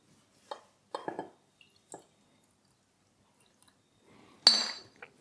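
Liquor poured over ice in a glass in a quiet room: a few soft clinks and splashy drips, then a brief brighter clink and trickle near the end, faint and close.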